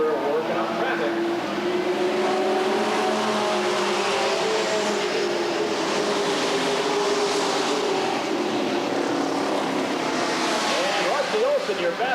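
Street stock race cars roaring around a short oval track at Redwood Acres Raceway, a continuous droning engine wash from several cars at mid distance, with a commentator's voice over the noise.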